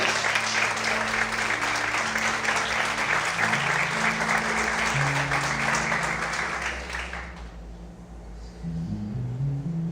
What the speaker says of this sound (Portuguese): Vamos aplaudir e exaltar bem forte a Deus